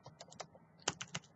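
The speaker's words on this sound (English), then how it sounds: "Let me type that one up for you." Keystrokes on a computer keyboard, a sparse run of separate clicks with a brief pause and then a quicker burst of several taps, close and fairly quiet, no one talking.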